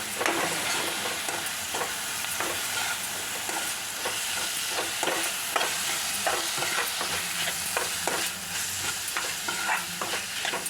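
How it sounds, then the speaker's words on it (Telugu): Soaked moong dal and ponnaganti greens frying in a pan, a dense, steady sizzle with repeated scraping stir strokes throughout, close and fairly loud. "ఫ్రై అయినాక ఈ నానబెట్టిన పెసరపప్పు కూడా ఇందులో వేసి మంచిగా కలపాలి"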